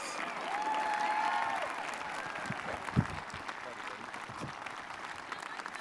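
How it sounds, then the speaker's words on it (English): A graduation crowd at a high school ceremony applauds in a steady wash of clapping, with a faint whistle early on and a brief louder thump near the middle. "Can we get another round of applause for our amazing,"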